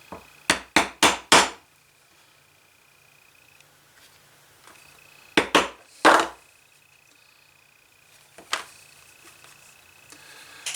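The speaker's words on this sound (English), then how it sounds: "Now, I don't force my chisel through there. I'm just getting it to tip through there." A chisel tapped with a mallet through leather while making a four-card vertical wallet, heard as sharp, close wooden knocks in quick bursts of four, then three, with a lone tap later over a faint background hum.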